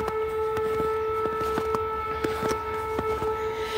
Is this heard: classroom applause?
no